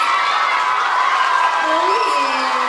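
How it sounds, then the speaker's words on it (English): A school spring concert audience applauds and cheers after a chorus and Orff ensemble performance, with loud, continuous clapping and a few rising whoops over the crowd. "And let's get one more big round of applause to these guys."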